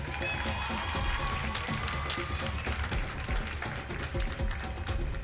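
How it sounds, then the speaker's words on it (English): An audience at a closing ceremony applauds with a dense patter of clapping hands that holds steady throughout. "Let's give him a round of applause."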